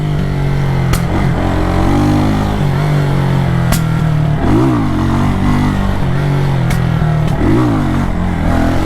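A motorcycle ridden at a Jamaican bike-life wheelie spot drones loudly and steadily up close, its engine pitch rising and falling through several revving surges with the occasional tick or click over the top.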